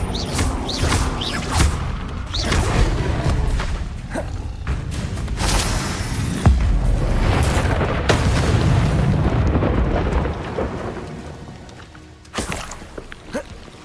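Confringo blasting-spell explosions in the Hogwarts Legacy video game: a run of loud, booming blasts and rumbling impacts piling up over several seconds, with occasional sharp bursts before fading toward the end.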